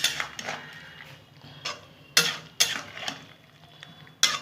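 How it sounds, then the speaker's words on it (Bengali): A spatula scrapes and knocks irregularly against a pan while a spiced lentil mixture is stirred, with sharp metallic clatters over a faint background sizzle. "এখন কিছুক্ষণ নাড়াচাড়া করে নেব।"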